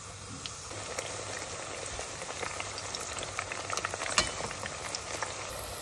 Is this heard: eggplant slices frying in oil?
yes